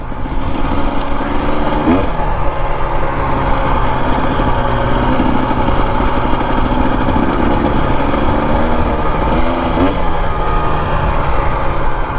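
A 2025 Husqvarna TE250 dirt bike engine droning loud and steady during desert trail riding, a close, continuous buzzing roar with slight shifts in pitch as the throttle varies.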